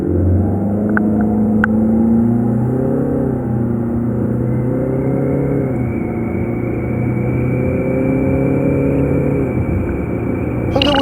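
A Renault Samsung QM6 2.0 dCi 4WD diesel SUV, run in automatic all-wheel-drive mode, accelerates hard with a steady, loud engine drone whose pitch climbs and resets across several gearshifts, heard from inside the cabin with no talk.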